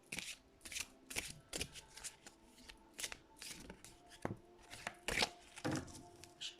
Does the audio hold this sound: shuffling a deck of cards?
yes